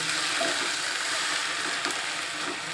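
Okra sizzles steadily in hot oil in a pan over high heat, a dense, even frying hiss with soft scrapes of stirring now and then, close and unbroken, with no talk.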